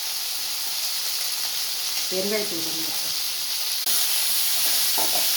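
Steady sizzling hiss of potatoes sautéing in a pan for potato masala, continuous throughout with a brief faint tonal clink midway and no talking.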